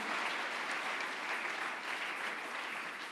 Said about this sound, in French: Tobeteli bango maboko.